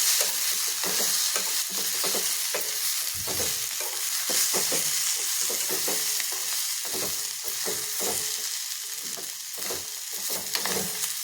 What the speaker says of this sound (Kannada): ಅದನ್ನು ಇವಾಗ ಇದ್ರ ಜೊತೆ ಫ್ರೈ ಮಾಡ್ತೀನಿ.